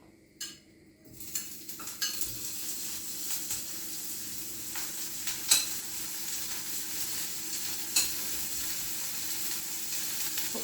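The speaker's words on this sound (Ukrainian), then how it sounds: "Зараз трошки будемо витаплювати сало." Pork fat (salo) sizzles and crackles steadily in a frying pan as it renders, a continuous close hiss with occasional sharper pops and a few light utensil clinks, no voices.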